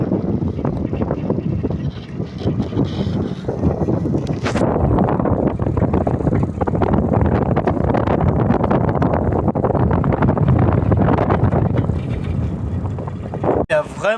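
Strong wind while sailing a boat at sea, a loud, continuous buffeting roar with gusty swells and rushing water, full and close throughout.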